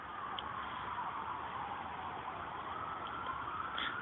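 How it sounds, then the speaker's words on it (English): Distant sirens wail faintly in the background, a thin continuous tone rising and falling under a muffled, band-limited ambience with no talk. "or I'm sorry, sirens in the background."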